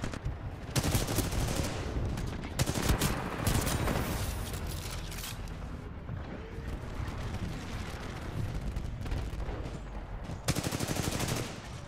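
Sustained automatic gunfire from a weapon in the shooter game Titanfall 2, loud and dense with rapid bursts and heavy impacts running almost the whole time, briefly easing before a final burst.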